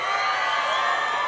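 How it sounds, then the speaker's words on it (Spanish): A live audience in Tomendan, Michoacán roars with cheering and applause, a dense crowd sound that runs through the whole short moment with no pauses. "Michoacán, dígamelo con su aplauso."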